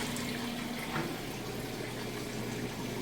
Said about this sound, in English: You can hear that drain running.